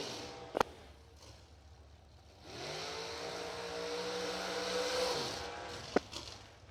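Dragster engines during a drag race final, a distant rising roar that builds and holds for a few seconds, then fades, framed by sharp cracks before and after.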